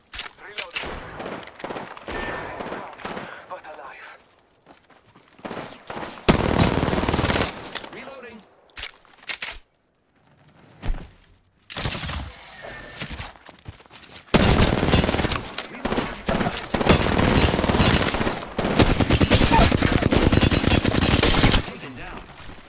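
Bursts of automatic machine-gun fire in an Apex Legends firefight on Kings Canyon, loud and close, with dense rapid volleys in several stretches separated by brief quieter gaps, and talk heard between the volleys.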